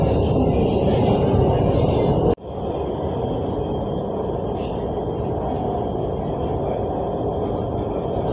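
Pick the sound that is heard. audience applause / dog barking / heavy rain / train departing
train departing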